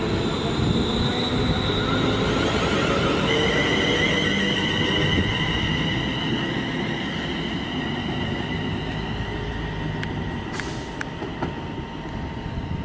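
A London Midland passenger train pulls out of Birmingham New Street bound for Liverpool Lime Street, a loud sustained rumble of wheels and motors with rising whine tones, gradually easing as it moves away.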